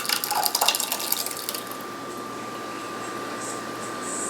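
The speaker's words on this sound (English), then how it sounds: "I'll pour some in my trusty container here." Homemade tomato pizza sauce is poured into a container, giving a short burst of wet splashing and pattering at the start before fading into a quiet, steady room hum.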